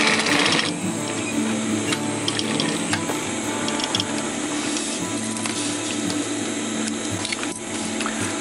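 A sewing machine stitches nylon webbing for a MOLLE panel, a continuous close mechanical whir with rapid needle clatter and occasional clicks running steadily for several seconds without speech.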